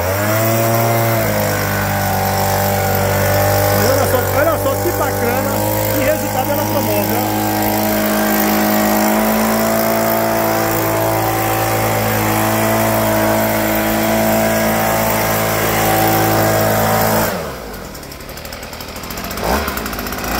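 Petrol leaf blower engine running loud and steady nearby, with a sustained droning tone that cuts out near the end, while voices talk over it.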